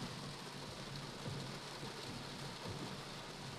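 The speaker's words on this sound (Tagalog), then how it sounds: "Wow, ulan." Rain pours down steadily in the first shower of May, a thick continuous hiss with faint low rumbles underneath and no talking.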